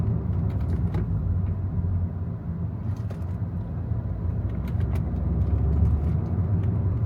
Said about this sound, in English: the traffic is crazy at this hour